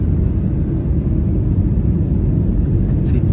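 An airliner landing at Las Vegas, heard from inside the cabin as a steady, loud, low engine rumble and roar, continuous and unbroken throughout.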